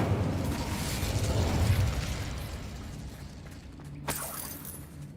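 The Incendio fire spell is cast in Hogwarts Legacy, a loud whooshing, roaring burst of fire that fades over a few seconds, followed by a sharp crackling snap near the end.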